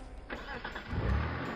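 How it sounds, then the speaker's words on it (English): A car engine cranks briefly and catches, a short mid-pitched starter whir followed by a low rumble as it fires, fairly faint and close. "started my car, and drove away as fast as I could."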